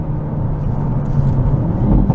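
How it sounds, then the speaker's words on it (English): A 2022 Hyundai Elantra N on a race track gives a loud, steady engine drone from inside the cabin, with a low, throaty rumble that carries through without a distinct rev blip standing out. "Oh, that downshift is just so good."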